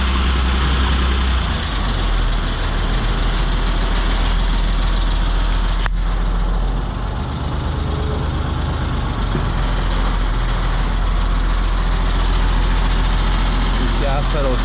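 A diesel pickup truck rumbles steadily at a loud, close idle while loading onto a wedge trailer, with a brief sharp clunk partway through and a person talking over the engine.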